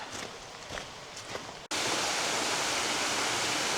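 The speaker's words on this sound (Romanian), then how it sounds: "am ajuns la o mini-cascadă. aici pe pârâul acesta" A small waterfall on a mountain stream rushes in a steady, close, full hiss. Footsteps and rustling come first, and the water noise suddenly takes over partway through.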